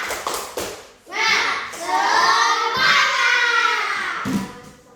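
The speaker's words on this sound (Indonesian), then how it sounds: "Tepuk semangat dulu ya." Classroom children perform a rhythmic 'tepuk semangat' clapping chant. A few quick, crisp claps open it, then young voices chant loudly together with scattered claps underneath.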